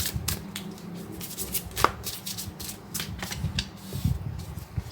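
Tarot cards are shuffled close by in soft, quick riffles and light slaps, repeating in an uneven rhythm at low volume with no talking.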